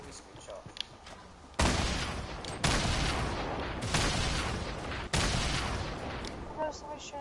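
Loud Fortnite gunfire bursts in separate volleys, each sharp blast followed by a long rumbling decay, with quieter game noise and a speaking voice in between.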